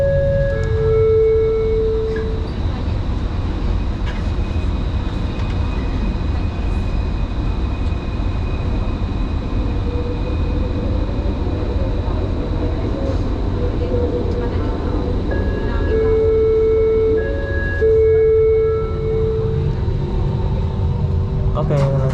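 An LRT train leaving Kelana Jaya station in Kuala Lumpur, a continuous loud rumble of wheels and motors with recurring electronic tones and chimes, heard from inside the carriage.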